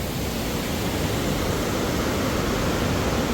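A river rushes steadily beneath the Turtuk suspension bridge, a wooden-plank crossing hung on wires, giving a loud, unbroken broadband roar of flowing water with no pauses.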